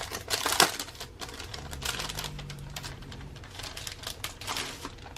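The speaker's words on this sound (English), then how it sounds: "you're gonna have to hear the crinkling because I like seeing it when you see it" Plastic packaging from a Cocoa Daisy October 2018 scrapbooking kit crinkling and crackling close by during unboxing, with a loud rustle at the start and then a steady softer crackle, no talking.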